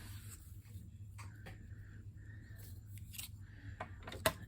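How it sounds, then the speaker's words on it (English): Several crisp metallic snips and scrapes of scissors being wiped clean, close by, with a sharp click near the end over a low steady hum. "Clean my scissors."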